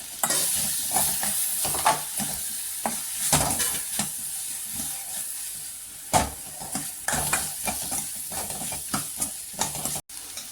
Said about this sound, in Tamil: அந்த 3 கத்திரிக்காயையும் சேர்த்துக்கலாம்